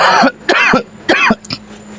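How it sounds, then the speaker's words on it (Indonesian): Man coughing close up in several harsh, throaty bursts, two double coughs followed by a shorter throat-clearing hack. "Saya lagi batuk"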